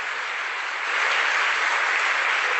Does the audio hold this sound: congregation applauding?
yes